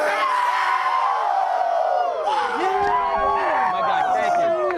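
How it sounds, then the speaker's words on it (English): A group of players loudly whooping, yelling and screaming together in a victory cheer for the Mustangs football team, sustained for several seconds with overlapping rising and falling shouts. "Let's send them out with a victory cheer, fellas."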